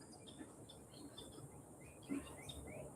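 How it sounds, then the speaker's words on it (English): Faint birdsong outdoors near Uvita on Costa Rica's south Pacific coast, several small birds chirping and trilling in short repeated phrases over a soft background hum, with no talking. "You also hear the birds. The birds kind of overwhelm things"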